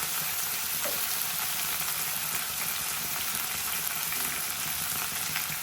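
Sliced large onion and a cut tomato fry in a pan, producing an even, continuous sizzle and hiss at close range, with no voices over it.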